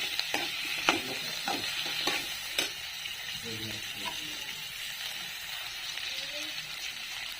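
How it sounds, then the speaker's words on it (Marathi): Tomatoes being stirred and sautéed in a pan for masala rice: a soft sizzle under repeated scraping and clinking strokes of a spoon, close by, with occasional faint voice sounds. "आता टोमॅटो टाकायचं परतून घ्यायचं चांगलं"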